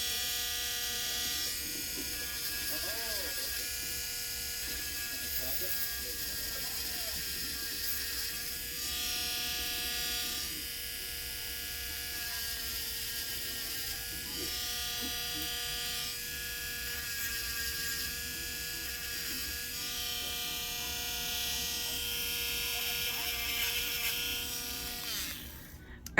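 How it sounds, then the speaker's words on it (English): A small battery-operated rechargeable sander works on a UV resin ring, giving a steady, close electric buzz with a fixed whine that hums on for the whole stretch and stops abruptly at the end. "My sander can get a little noisy."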